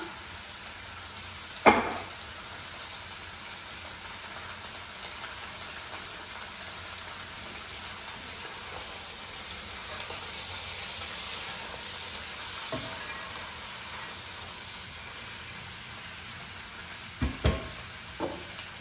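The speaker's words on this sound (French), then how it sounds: "On met toutes les saucisses en dedans." Sausages, with hot peppers in oil alongside, fry in a pan with a steady soft sizzle throughout, punctuated by a few sharp utensil clicks and taps, close and without talk.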